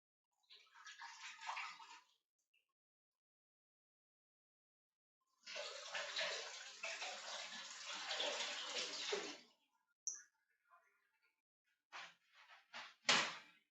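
Cold tap water runs into a container for fresh mint sprigs in two faint bursts of steady splashing, separated by silence. A few soft knocks and clatters follow near the end.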